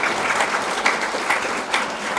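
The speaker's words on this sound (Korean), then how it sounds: "이분들에서 박수 한번 먼저 보내주시면 어떨까 합니다" An audience at a large Korean community event applauds steadily, a dense, continuous wash of clapping heard close with no voices over it.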